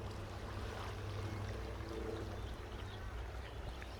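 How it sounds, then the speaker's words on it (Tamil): Steady rushing river water in Switzerland fills the scene with a constant low roar, a continuous churning flow with no voices. "தண்ணி எவ்வளோ வேகமாக போகுது பாருங்க"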